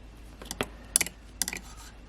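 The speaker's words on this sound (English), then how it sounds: "Pardon the clacking of the needles there." Knitting needles clack sharply in a few quick clusters while a cable is worked in a confined space, close and crisp against near silence.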